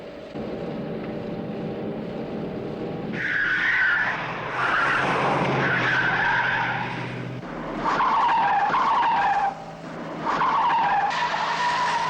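Tyres squeal and skid loudly in repeated bursts as a car slides out of control in a Thunderbirds puppet adventure, with engine noise and dramatic score woven through the stretch.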